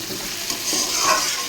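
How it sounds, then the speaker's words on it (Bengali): Curry spice paste with turmeric frying in a pan while being stirred, a close, steady sizzle with soft scraping, no voices. "হলুদটাও দিয়ে দিলাম ভালো করে কষিয়ে নেব"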